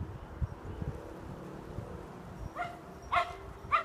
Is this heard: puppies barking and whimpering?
yes